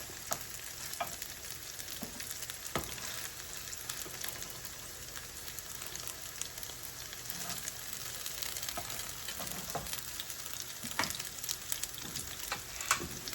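Mashed potato cakes fry in a skillet with a continuous close sizzle and crackle, joined by a few sharp scraping or tapping sounds now and then, and no speech.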